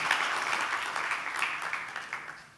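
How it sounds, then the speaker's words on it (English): Applause from a crowd at a live smartphone unveiling for the Zenfone AR, steady dense clapping that tapers off slightly near the end. "that applause could be louder"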